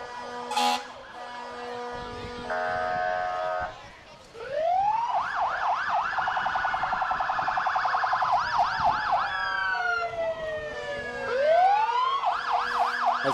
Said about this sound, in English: And they got fire engines.